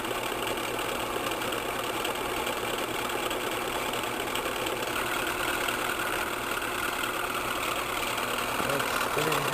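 An engine runs at about 550 RPM with a steady, low idling rumble and faint knocking throughout, at moderate loudness, with a voice briefly heard nearby.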